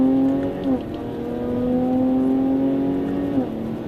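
A Jaguar XE S with a supercharged engine pulls hard under acceleration, a loud, steady, close engine drone that briefly dips twice as if shifting gears, with no talking.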